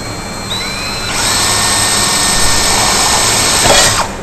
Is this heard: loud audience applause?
no